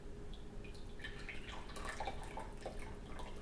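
Water poured from a tea kettle spout into a gaiwan, a steady close trickling and dripping stream running a few seconds with faint splashy bubbling, alone without talk.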